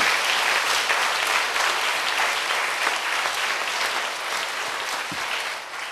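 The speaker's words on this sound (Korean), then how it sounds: "자, 박수로 주님께 영광 돌립니다." A church congregation applauds at a Sunday service, steady dense clapping from a large crowd that holds for several seconds before easing slightly.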